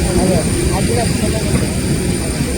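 A loud, steady roar of a large airplane's engines at Delhi airport fills the clip without a break, with voices faintly audible beneath.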